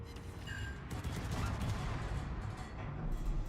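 A full broadside from two battleships in World of Warships, a faint, distant rumble of massed gunfire that rolls on continuously through the short stretch.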